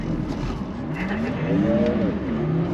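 An electric Porsche drifts with no engine roar, only a steady broad tire-and-motor whine that rises and falls in pitch as the slide continues, loud and close throughout.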